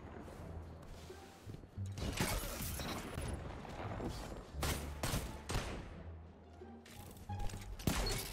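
Shotgun blasts and other gunfire in the shooter game Destiny, several loud, sharp bursts spread irregularly across the few seconds with mechanical clatter between them, close and punchy over a low game soundtrack.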